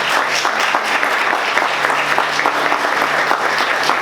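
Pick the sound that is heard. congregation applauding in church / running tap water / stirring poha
congregation applauding in church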